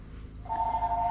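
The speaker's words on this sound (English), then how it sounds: "my phone's ringing" A mobile phone starts ringing partway through, a steady electronic tone rising clearly over a low background hum in a garage setting.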